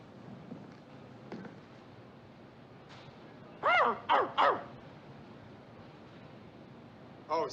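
A voice mimics a dog, three quick, loud barks in a row with a fourth starting at the end, over quiet room tone.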